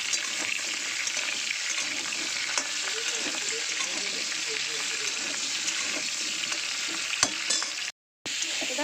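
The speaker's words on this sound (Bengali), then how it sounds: "এবার ওই মধ্যে তেল দিয়ে পটলগুলো একটু ভেজে নেব" Pointed gourd (potol) pieces frying in oil in a pan make a continuous close sizzle with bubbling and the occasional clatter of stirring, ending in a brief cut of silence near the end.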